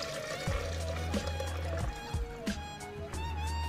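Milk being poured for a date milkshake makes a faint, close liquid trickle and splash over a low steady hum, with a few soft knocks.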